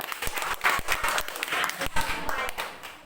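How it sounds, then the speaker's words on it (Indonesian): Students in a classroom clap together on a teacher's cue, giving a burst of sharp, uneven hand claps with loud individual slaps standing out, and voices mingle with the clapping. "Tepuk tangan dulu."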